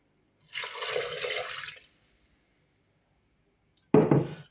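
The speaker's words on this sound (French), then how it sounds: "On va mettre de l'eau." Water poured into a blender bowl for cucumber juice, a steady splashing stream lasting about a second, then a short louder splash near the end, close and alone.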